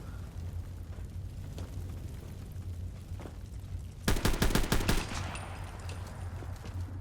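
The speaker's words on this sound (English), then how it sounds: "now I'm getting constantly sprayed with bullets as well." Gunfire from the video game Fallout London comes in a sharp, loud burst of rapid shots about four seconds in, over a low game hum, with faint isolated pops before it.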